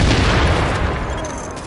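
A frag grenade explodes nearby in The Division, a loud rumbling boom that fills the whole moment and slowly fades.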